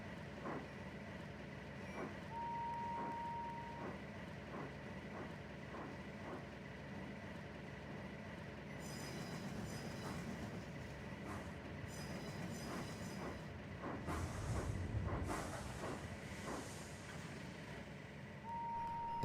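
A steam train pulls away and rumbles along steadily with rhythmic wheel clatter, a couple of short whistle tones, and a heavier surge of noise near the end.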